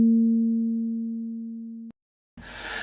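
A synthesized plucked tone built from coupled oscillators sounds its harmonics together as one steady, sustained note for about two seconds, then cuts off to silence before a brief burst of noise.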